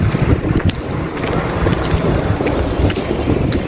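Strong wind buffets the microphone in a steady, loud roar with low rumbling gusts, alongside the wash of open water.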